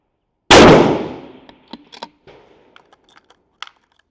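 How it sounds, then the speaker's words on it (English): A single loud, sharp rifle shot rings out during load development testing at 300 to 600 yards, its echo trailing off before a few faint clicks and small metallic knocks follow. "now we're going to shoot 5 rounds"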